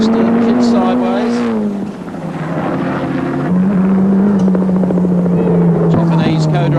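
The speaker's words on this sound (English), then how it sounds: "Oh, and the car's in trouble. It's misfiring." Mitsubishi Starion touring race car from 1987 production touring car racing, its engine droning loud and near with a wavering, uneven pitch that dips and recovers as it misfires, under a commentator's voice.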